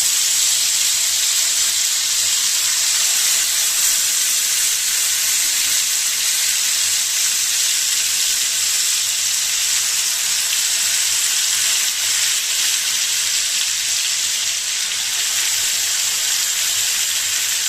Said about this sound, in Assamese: 5 মিনিট বা 7 মিনিটৰ কাৰণে ভাজি প্ৰথমে জুইটো বঢ়াই দিছোঁ